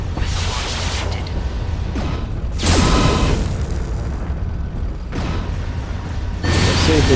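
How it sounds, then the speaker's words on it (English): Missile launches and explosions in the video game MechWarrior 3 come as a series of loud, deep booms with rushing blasts every couple of seconds over a constant mechanical rumble. "Missile launch detected."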